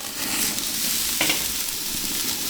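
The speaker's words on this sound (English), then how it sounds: "Sear it, 1 minute per side." A tri tip steak seasoned with salt, pepper and garlic sears over Kingsford cherry briquettes and cherry wood splits, a steady close crackling sizzle with one brief sharper pop midway and no talking.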